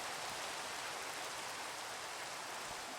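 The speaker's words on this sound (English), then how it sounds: "Of course it's raining." Rain falls in a Minecraft-style video game, a steady, soft hiss of even patter with no distinct drops, continuous and unbroken.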